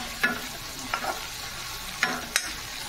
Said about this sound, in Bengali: এইবারে হাই হিটে দিয়ে শাকটাকে আমি 2 মিনিটের মতো একটু ভাজা ভাজা